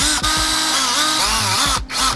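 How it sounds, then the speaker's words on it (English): Power drill used in place of a screwdriver, likely driving in screws while installing a tsurikawa, whirring loudly and close in short bursts, with pitch swooping as it speeds up and slows, and a brief stop before it spins again. "I couldn't find the screwdriver, so I have this drill instead."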